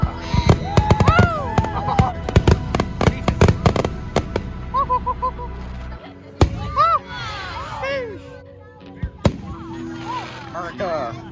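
Fourth of July fireworks burst overhead in rapid loud bangs and crackles, with whistling rising shells between explosions; people talk and exclaim throughout.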